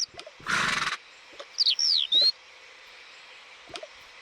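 A horse in the video game Toca Boca lets out a short whinny, followed by a few high, chirpy calls and faint clip-clops, all fairly quiet against a calm background.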